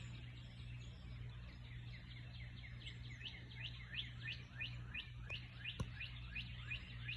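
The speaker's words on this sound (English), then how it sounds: "you can hear the birds. They're greeting the day too" Small birds singing in the morning outdoors, a steady run of bright chirps and short sweeping notes repeating through the whole stretch, fairly faint and distant over a low background hum.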